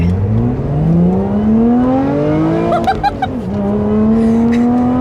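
A Lotus Evora engine in sport mode revs loudly on a twisty road, its pitch climbing steadily, briefly dropping at a gear change with a quick crackle, then pulling strongly again.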